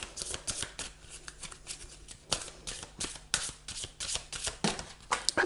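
Tarot guidance cards are shuffled by hand, a close, soft riffling and flicking of card stock in quick uneven bursts, with no talk.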